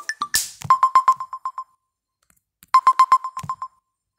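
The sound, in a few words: phone ringtone during a call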